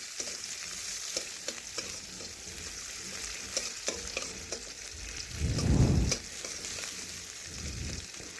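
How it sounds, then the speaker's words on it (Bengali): Chopped onions fry in oil for a Bengali kakrol curry, a steady crackling sizzle broken by spatula scrapes and stirs, with a louder rushing burst near the end. "পেঁয়াজ একটু ভেজে নিচ্ছি।"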